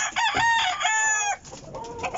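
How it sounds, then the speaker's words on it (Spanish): A four-and-a-half-month-old chicken clucks and lets out strained, crow-like calls, loud and close, with a brief pause before more clucking. "Aquí tenemos un pollito de 4 meses y medio."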